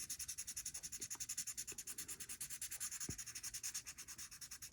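A pencil shades on paper to draw a pewter-like metal marble, making quick, rhythmic back-and-forth scratchy strokes that are close but faint and continue steadily, with no talking.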